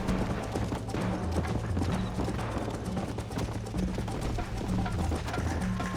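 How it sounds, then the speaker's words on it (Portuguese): A horse gallops in Red Dead Redemption with a fast, steady clip-clop of hooves that continues throughout, set against a low game soundtrack. "Tem que correr de cavalo."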